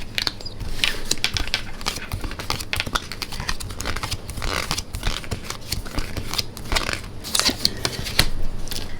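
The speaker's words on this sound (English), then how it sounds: "So I like to shuffle the cards." Oracle cards being shuffled by hand, a dense, continuous run of papery riffling and crisp card slaps, close and fairly loud, lasting several seconds with no talk.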